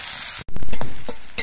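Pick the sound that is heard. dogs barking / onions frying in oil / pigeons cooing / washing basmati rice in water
onions frying in oil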